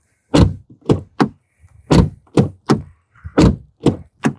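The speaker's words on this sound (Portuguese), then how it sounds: "temos batidinha de porta bem alemã, ó." Car doors on a VW Nivus GTS shutting repeatedly, about nine solid, close thunks in an irregular rhythm, each sharp with a brief low body resonance and near silence between.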